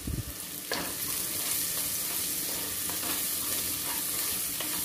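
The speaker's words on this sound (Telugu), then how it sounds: "ఇలా ఒకసారి బాగా కలిపేసుకోండి" Onion and tomato gravy with salt and turmeric being stirred in a pan for a Rayalaseema dry mutton curry, giving a steady close sizzle with soft scraping strokes of the spoon and no talking.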